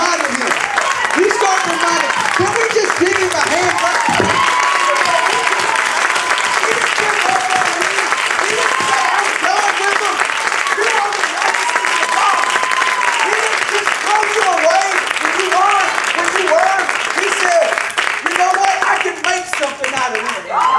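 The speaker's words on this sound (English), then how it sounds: "Can we just give him a hand clap?" Church congregation clapping together at a sermon, a long, loud and steady burst of applause with crowd voices and cheers mixed into the clapping.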